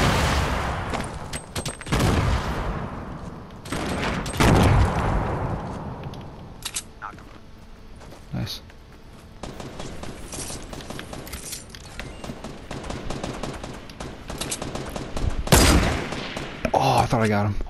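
Gunfire in a Fortnite duos match comes as repeated bursts of shots and loud booms over about eighteen seconds, mixed with mechanical game effects and occasional talk from the players.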